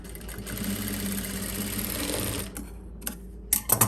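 Sewing machine stitching pieces of old jeans together: a close, steady mechanical whir for about two and a half seconds, followed by a few brief clicks and short bursts.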